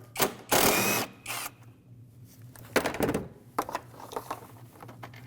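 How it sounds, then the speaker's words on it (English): A socket wrench on a long extension works a 13mm intake bracket bolt on a 2009-2010 Dodge Ram 1500, giving a few quick ratcheting clicks and metallic clacks in short bursts, close by with no talk. "If you just go down with a longer extension and a socket, you can take that off from the front."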